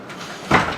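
A door opens with a short rustling scrape that swells into a brief louder burst near the middle, then tails off against faint room noise.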